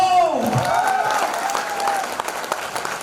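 An audience at a motivational talk breaks into loud applause, dense clapping that follows a brief voice at the start and slowly thins over a few seconds.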